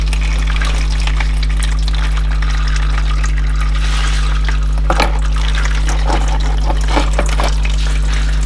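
Transmission fluid drains from an Audi transmission into a drain pan too small for it, a steady liquid trickle and pour over a constant low hum, with a few louder splashes near the end.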